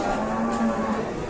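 Large jumbo cattle mooing in a long, low sustained call, fairly close, with a busy crowd of livestock noise around it.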